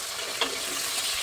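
Pumpkin badi fried in hot oil for an eggplant curry, giving a steady close sizzle with a brief sharper crackle near the start and no talking.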